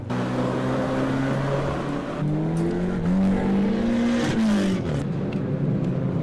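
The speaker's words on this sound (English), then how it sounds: "The sport of banger racing is full contact with no holds barred, an extreme sport for drivers with no fear." Banger racing cars tearing around an oval race track, several engines revving and whining at shifting pitches as they pass, with rising and falling roars and a few sharp bursts, no talk heard.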